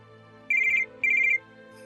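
A telephone rings in an indoor domestic scene, two short electronic trilling bursts separated by a brief pause, clear and fairly loud over a quiet background hum.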